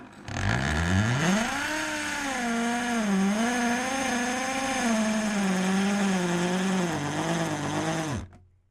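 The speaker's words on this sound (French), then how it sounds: "Après ça, on peut commencer à percer." A handheld power drill bores into a surface: the motor whines up in pitch, then holds a steady, slightly wavering hum for about seven seconds before cutting off abruptly. It is close and loud, with no talk.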